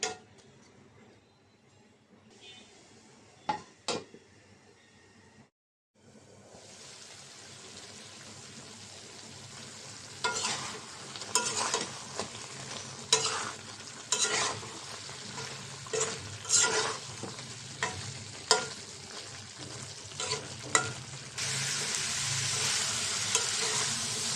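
Teasel gourd and vegetables stir-fry with turmeric, chili and mustard paste, starting with quiet clinks and a pause, then a strong, continuous sizzle punctuated by repeated spatula scrapes and knocks in the pan, close and without talking.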